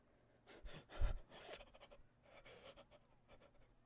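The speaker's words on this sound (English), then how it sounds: "She pants heavily, but all the deep breaths she's taking don't deliver any useful air to her lungs" A girl in a video game pants heavily and rapidly, with fast whooshing breaths from her throat like bellows, close and fairly quiet, gasping in uneven bursts with no talk.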